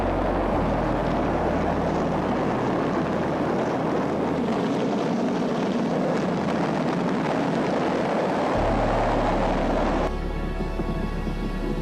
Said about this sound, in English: 10, 9, ignition sequence start